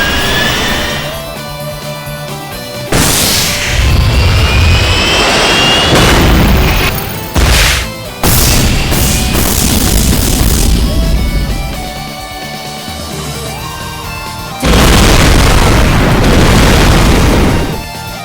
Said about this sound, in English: Target confirmed! Launch missile!